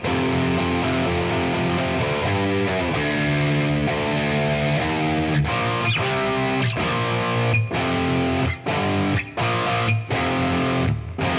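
Heavy distorted electric guitar plays power chords and single notes in drop D tuning, working through a song pre-chorus; the chords ring full and dense, with several short sharp stops and re-attacks toward the end, loud and alone.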